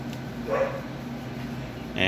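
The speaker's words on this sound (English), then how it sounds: "And I do apologize for my dog barking in the background." A dog barks in the background of a room where a modified 500GB Wii console is being set up, with a few short barks under ongoing talk.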